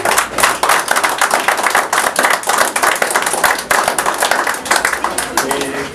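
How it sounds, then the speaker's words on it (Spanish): A crowd claps steadily in dense, sustained applause during a religious procession, loud and close, with no talk over it. "Un aplauso."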